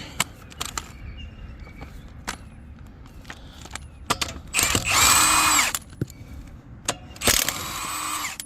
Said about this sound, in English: I'm going to use my impact and a 7/8 socket to run these off real quick